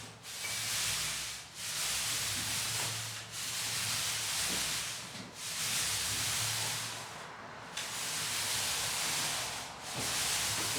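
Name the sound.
Purdy Marathon paint roller applying a mist coat to a wall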